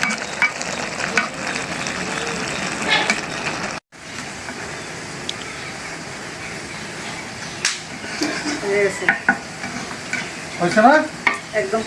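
Fried fish and taro stolons are stirred in a pan, giving a steady sizzle with scraping and clinking, a brief silent gap partway through, then louder stirring toward the end.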